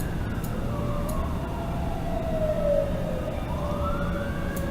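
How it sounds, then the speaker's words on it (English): Emergency vehicle sirens wail outside a residence, rising and falling tones sweeping past at moderate distance under a steady background hum, with no talking. "The sirens are outside my place."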